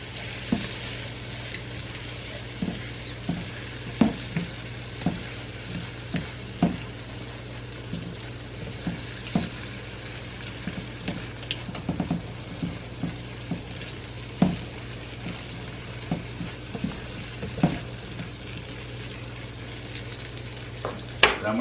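Butter melting in a pan with a soft steady sizzle, punctuated by regular light ticks and taps from a utensil against the pan, close by and without talk.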